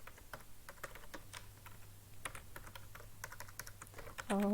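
Quiet, rapid clicking of keys on a computer keyboard as HTML code is typed, irregular bursts of close taps over a low steady hum, with a short tonal sound at the very end.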